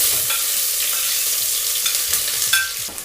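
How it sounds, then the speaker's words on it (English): Onions hit hot oil in a pan for lemon-and-pepper chicken, producing a loud, steady, bright sizzle close by, with a few stirring scrapes and clicks near the end, no talking. "since the oil is hot, the first thing you put in are the onions"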